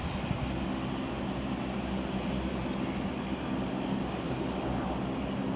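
An Aer Lingus airliner passing over at Marston Green beside the West Coast Main Line, a steady broad engine roar and rumble held throughout at moderate level, with no voices.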